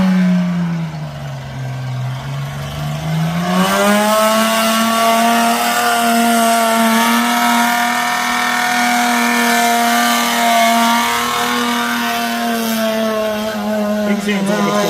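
A Ford AU Falcon's engine revs loudly at a motorfest, a sustained mid-pitched drone rising and holding steady with strong harmonics, close and continuous with crowd noise underneath.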